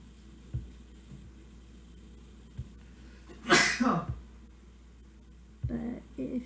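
A single loud sneeze erupts from a student in a lecture hall during an organic chemistry review, breaking a quiet room hum with faint shuffles before and talking after.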